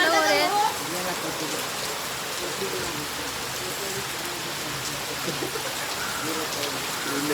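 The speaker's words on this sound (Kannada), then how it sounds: "ಗೈಸ್ ಫುಲ್ಲು ಮಳೆ ಬಂದ್ಬಿಟ್ಟು ನೆಂದೋಗ್ಬಿಟ್ಟು" Heavy rain pours steadily outdoors in a village, a dense, loud, even hiss of falling water, with a brief voice heard at the very start.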